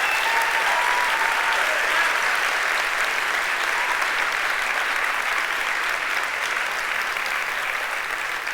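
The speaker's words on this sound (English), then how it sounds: "Give this guy a round of applause" A seated audience at a live talk bursts into steady, loud applause for a young man standing in the front row, a dense wash of clapping that holds evenly for the full stretch without pause.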